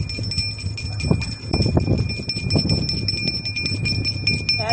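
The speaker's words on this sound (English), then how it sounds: "Ringing the bell." A hand bell is rung outdoors at the Treaty of Portsmouth anniversary in Portsmouth, New Hampshire, with bright sustained tones above steady rhythmic clatter and street noise, fairly close.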